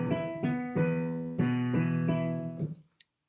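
Piano plays a harmony from Dear Evan Hansen with the non-chord tones removed, a handful of soft chord strikes in a slow rhythm that fade out, alone.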